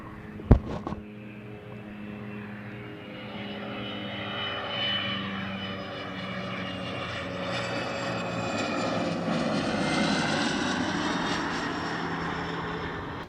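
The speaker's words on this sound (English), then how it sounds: "Oh, mandatory plane break." An airplane passes overhead near an airport ramp, its engine roar building slowly after a sharp knock at the start, swelling to a broad, loud drone that holds and shifts in pitch for several seconds.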